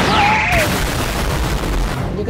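A hard badminton smash by a former world-ranked player, with a loud, rushing burst of air and sharp, impact-like noise that fills the whole short moment and stays strong throughout.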